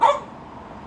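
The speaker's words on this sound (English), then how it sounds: "excuse the dog by the way" A dog gives a single short, sharp bark up close, fading quickly into a quiet room.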